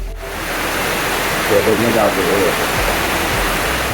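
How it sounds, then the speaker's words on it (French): A loud, steady roar of falling water from Elephant Falls in Vietnam fills the air, with a faint voice briefly audible beneath the constant rush. "Tout près, l'impressionnante cascade Éléphant rugit."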